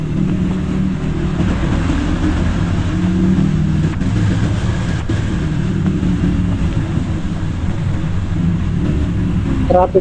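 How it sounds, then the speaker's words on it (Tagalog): Dense road traffic in Baguio town, a continuous close rumble of car engines and motors with an occasional brief horn-like tone near the end, and a voice talking under it. "Sobra traffic dito mga ka-explore."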